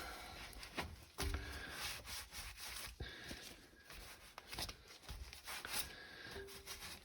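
A rag wiping grease off a trailer wheel spindle assembly, heard as faint, close scrubbing and rubbing strokes in short uneven bursts against a quiet background.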